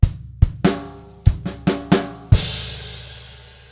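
Drum kit playing bar 3 of a Grade 4 rock groove: several sharp bass drum and snare hits with hi-hat, then a final crash cymbal left ringing and fading, close and loud.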